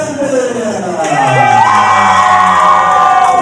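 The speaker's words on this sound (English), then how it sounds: "You hear the chants going on." Loud arena crowd at a wrestling fight cheers and whoops, the roar swelling midway into sustained high-pitched shouting and chanting that stays intense to the end.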